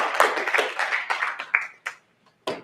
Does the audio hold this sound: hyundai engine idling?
no